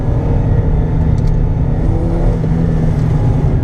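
Ford SportKa accelerating on the Three Sisters race track, a loud steady engine drone pulling through a corner exit, heard from close by inside the car with no talking.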